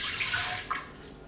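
Water pours from a cup into an Instant Pot for cooking sausage and potatoes, a faint, brief, steady splashing rush with no talking.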